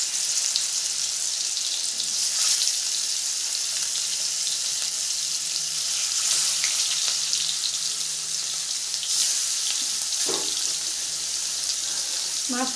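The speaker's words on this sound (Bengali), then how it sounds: "মাছটা ভেজে দেখাচ্ছি" Large bhola fish pieces frying in hot oil in a pan, a steady broadband sizzle running continuously at close range with a few brief clinks and louder spatters, no talking.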